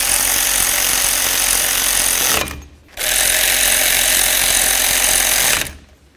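Brake caliper slider bolts being tightened on a 2006-12 Ford Fusion front brake, heard as two loud, steady mechanical buzzing bursts close by, separated by a brief pause.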